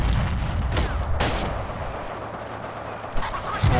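Artillery fire in Forgotten Hope 2 on a Gold Beach battlefield, with two big booming blasts early on, low rumble in between and a sharper report near the end.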